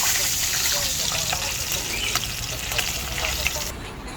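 Fish frying in a pan hisses and crackles loudly and steadily, with scattered pops and spatters throughout, then drops off abruptly near the end.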